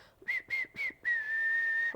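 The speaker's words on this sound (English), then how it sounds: "I think it's just a whistle" A person whistling a short tune: three quick rising notes followed by one long held tone, clear and close with no other sounds.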